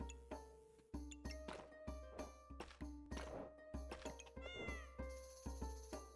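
Cartoonish cat meows from the video game Backpack Battles repeat about every second, each a short harmonic mew over a steady game-music bed and clicking interface sounds.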